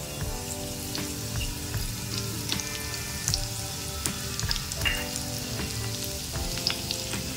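Cumin seeds and chopped garlic fry in hot oil for a veggie masala oats dish, giving a steady close sizzle with scattered sharp crackles and pops and no talking.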